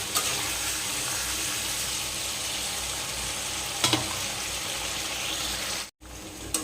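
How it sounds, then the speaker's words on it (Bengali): Chicken pieces and potatoes frying hard in a pan, a dense, unbroken sizzle heard up close, with one clattering stir midway and a brief sharp cutoff near the end. "মাংসের আলুটা দিয়ে একটু ভালো করে কষিয়ে নেবো আর একটু"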